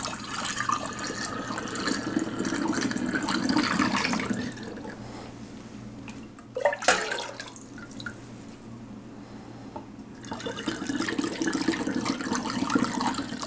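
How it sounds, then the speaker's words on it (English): Raw ginger ale poured through a funnel into clean bottles, a steady close trickle and splash of liquid that pauses briefly midway, then resumes filling with no talk. "Dip in and start filling your bottles up."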